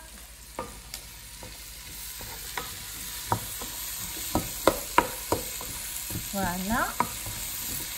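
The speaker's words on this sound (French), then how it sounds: "300 g de blanc de poireau qu'on fait suer dans du beurre." Leek whites and onion sweat gently in butter in a pot, giving a soft, low sizzle punctuated by scattered spoon clicks and scrapes against the pan; a voice speaks a word briefly near the end.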